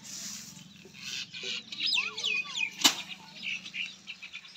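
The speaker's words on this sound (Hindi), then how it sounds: "ये रहा मुर्गा हमारा, यार दाने तो खा गए यार।" During a rice harvest, a chicken flaps its wings in short, quick bursts up close, with clucks and squawks between them and one sharp thump partway through, over a faint steady background hum.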